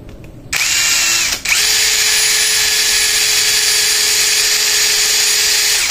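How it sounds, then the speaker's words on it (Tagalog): Ingco CIDLI206681 20V cordless impact drill running in hammer mode, a loud, steady high-pitched whine after a brief start, a short stop near 1.4 s, then continuous drilling to the end with no talk. "Kung bato po ang inyong di-drill, ay ito po yung hammer."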